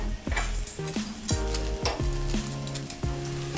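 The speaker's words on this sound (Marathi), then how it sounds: "हा कोळसा ठेवला, यावर थोडंसं तेल टाकते मी" Oil poured onto hot charcoal over schezwan fried rice sets off a loud, close sizzle, with tonal squeals and hisses rising and falling over a few seconds and no voices.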